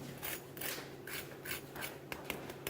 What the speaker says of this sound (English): I'm just going to let you hear how crusty they are.